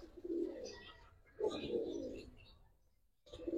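Cobra Silver pigeons, Giribaz high-flyer birds kept together for sale, make soft rolling coos in two or three bursts with pauses between, quiet and close.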